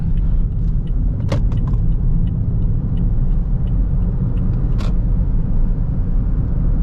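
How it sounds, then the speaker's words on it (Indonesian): Inside a 2018 Toyota Yaris 1.5 CVT TRD Sportivo accelerating on the road, a loud, steady low rumble of road and wind noise fills the cabin, with a few light rattles and clicks near the start and middle. "Road noise, wind noise."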